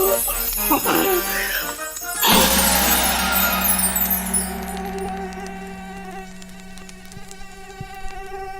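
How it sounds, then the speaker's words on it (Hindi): A mosquito buzzes in an animated cartoon, a thin high whine set among cartoon music and effects, with a sharp crash near the start before the buzzing tone carries on steadily. "ए मच्छर, तेरी हिम्मत कैसे हुई इतनी हंसी चेहरे पर बैठने की?"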